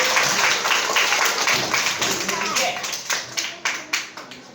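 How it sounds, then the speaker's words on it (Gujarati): Grade 6 students clap their hands during a classroom guessing game, a loud scattered round of clapping that thins into a few distinct, separate claps near the end. "સાચું તાળી પાડો તો વિજય"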